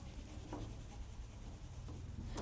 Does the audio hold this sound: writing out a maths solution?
yes